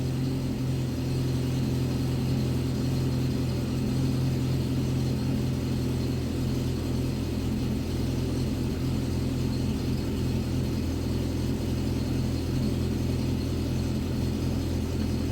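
A VAZ 2110 car engine idles at raised revs while warming up, a steady, unbroken mid-low drone that stays close and constant without any talk.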